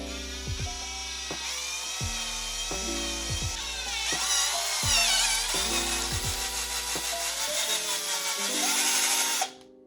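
A Hatlight 2564 drill bit bores slowly straight through a part during a GPStar Supreme wand kit install: a continuous close, loud whine with several pitch drops as the motor bogs, stopping sharply near the end.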